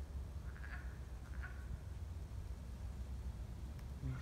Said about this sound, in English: Ignore the goose, but there is a wood frog